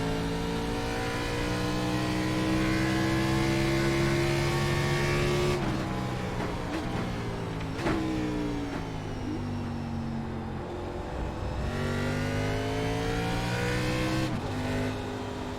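Stock car engines roar continuously in an iRacing race at Interlagos, a loud, close, sustained drone that rises and falls through gear changes and revs, with no talk over it.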